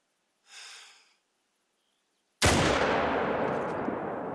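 A single loud, close F.L. Sporter .303 rifle shot in theHunter video game, a sharp crack followed by a long rolling echo that fills the rest of the moment, preceded by a brief soft rustle.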